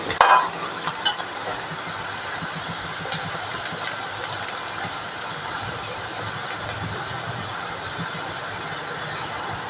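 Grated coconut fries and gets stirred in oil in a pan while cooking cherupayar upperi, a steady close sizzle running throughout with a few scraping clicks near the start.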